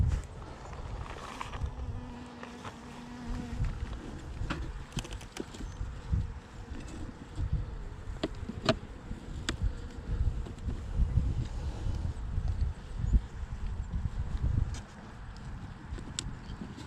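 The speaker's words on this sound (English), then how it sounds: "Nice calm bees." Honey bees buzz steadily around a nuc hive outdoors, a dense, close drone with some louder passes near the microphone and faint handling noises, no talk.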